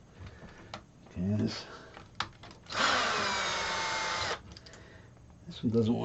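A power drill with its bit being backed out of a caster part whines loudly for about a second and a half, framed by faint clicks and brief vocal sounds before and after.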